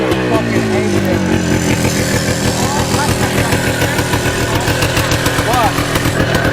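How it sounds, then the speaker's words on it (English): A free four-wheeler quad with an FMF exhaust revs loud and close, its engine note rising and falling with a rough, buzzy tone throughout, and brief voices under it. "Sounds like it needs a little bit of tuning, but for a free quad, it sounds sick."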